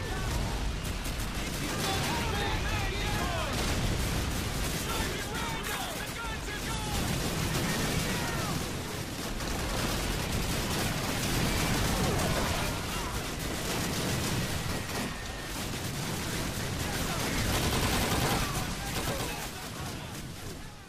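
Continuous heavy gunfire and explosions fill the Call of Duty 2 battle at Pointe du Hoc in World War II, a dense, loud, unbroken wall of shots and blasts. A voice talks under the din.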